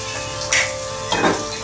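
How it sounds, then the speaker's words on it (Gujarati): Two short bursts of sizzling rise as tomatoes and chillies hit a pan of hot oil for tempering, over a low background hiss. "ટમેટા, મરચાં ને પેલા ટમેટા નાખી દીધા છે વઘારમાં અને એને ઘડીક વાર સાતળી લઈશું"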